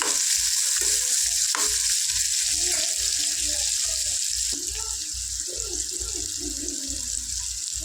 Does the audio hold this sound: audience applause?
no